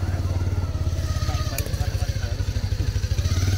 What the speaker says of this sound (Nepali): यहाँ अर्कोले बाइक पार्क गर्दैछ।